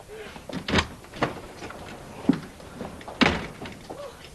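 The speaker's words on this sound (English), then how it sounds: "Did you hear the door?" A door thuds indoors in a 1985 British TV drama scene, giving a few dull knocks spread over several seconds against quiet room tone.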